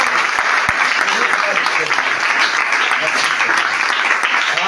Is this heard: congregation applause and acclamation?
yes